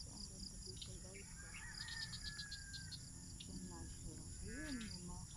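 Birds calling by a river with chirps and whistled notes scattered over a constant insect drone, faint and fairly distant, with a few rising and falling calls near the end.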